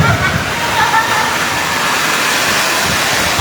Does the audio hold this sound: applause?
no